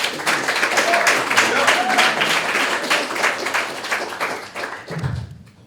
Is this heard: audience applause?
yes